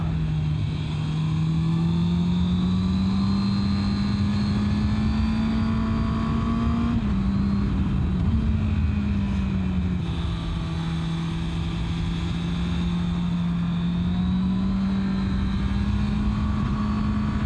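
A motorcycle engine drones steadily while riding on a mountain road, a loud continuous hum with slight pitch shifts and wind noise throughout.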